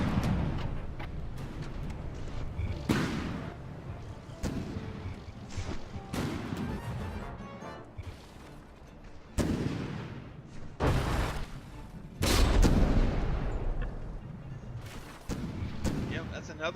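Cannon shells firing in the naval combat game From The Depths, a series of sharp booming blasts at irregular intervals, some close together, with rumbling between shots.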